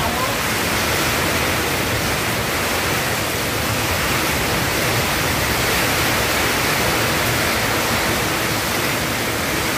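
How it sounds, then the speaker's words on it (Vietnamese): Strong gusting wind in a summer storm in Ninh Thuan, Vietnam: a loud, steady, dense roar of air and rushing noise that fills the whole stretch without a break. "Đây là con gió này mọi người"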